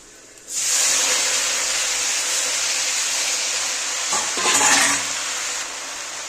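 Water spinach (kolmi shak) greens drop into hot oil with fried garlic, onion and chilli, setting off a sudden loud, steady sizzle that runs for several seconds and swells briefly near the end.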